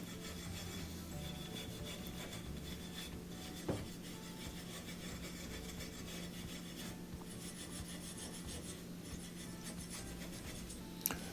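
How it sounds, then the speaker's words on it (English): A wire brush scrubs rust off the igniter of a Wolf stove burner, a steady quiet scratchy rasping that continues for over ten seconds, with a couple of small metallic taps and no talk. "just using the wire brush to brush off that rust can make a big difference"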